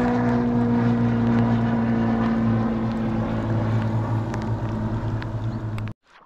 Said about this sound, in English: A little plane coming by.